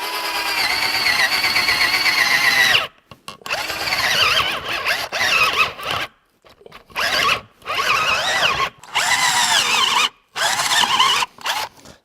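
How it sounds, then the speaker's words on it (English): Cheap 18-volt cordless drill on Amazon boring with a 1-inch spade bit, whining and grinding in repeated loud bursts that stop and restart as the bit bogs down, with silent gaps between pulls. "that is not a nice sound inside of that drill."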